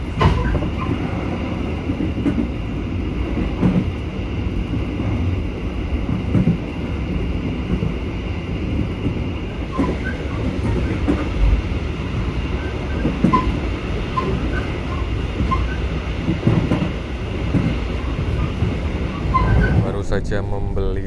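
Kutojaya Selatan passenger train running steadily, a continuous loud rumble of wheels on rails with faint clickety-clack, heard from inside the carriage for the whole stretch, with voices talking faintly underneath.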